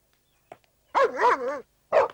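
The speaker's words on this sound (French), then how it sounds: "Ne vous occupez pas de ces chiens. Chaque fois qu'on entre dans cette pièce, ils aboient comme ça." Dogs indoors bark at people entering a room, giving a short yip followed by a sustained wavering bark-whine and then one more sharp bark, fairly close and clear with no talk.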